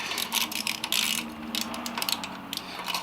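A ratchet wrench loosening the exhaust heat shield bolts on a Triumph Scrambler 1200, a rapid close-up clicking run that pauses and resumes in short bursts.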